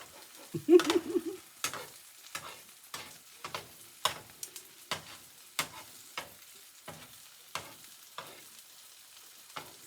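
Shrimp egg foo young patties fry quietly in a pan. About a dozen sharp spatula taps and scrapes come at irregular intervals over a soft, low sizzle.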